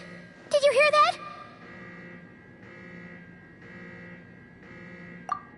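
In Genshin Impact, an alarm sounds in a Fatui-guarded area, a steady buzzing tone pulsing in even repeated bursts under a brief musical cue, faint against background game ambience.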